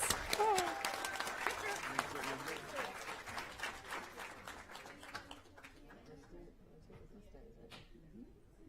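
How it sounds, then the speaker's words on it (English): A meeting audience breaks into applause at a recognition event, loud and dense at first with voices mixed in, then thinning to scattered claps that fade out. "Please give a round of applause for our boys."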